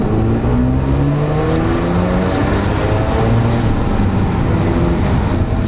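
A 1990s Mazda FD RX-7 with its rotary engine drives hard, a loud continuous buzzing engine note rising and shifting through gears with no pauses, close and steady throughout.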